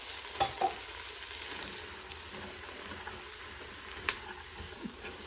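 Cabbage soup vegetables with jalapenos and garlic cook in a pot for keto cabbage soup, producing a soft, steady sizzle with a few faint clicks of stirring.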